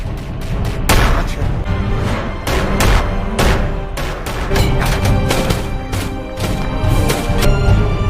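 Gunfight in a gangster film set in a workshop, with dense, continuous bursts of gunfire and impacts crowding the whole stretch, loud and close, sharp cracks repeating in quick irregular clusters.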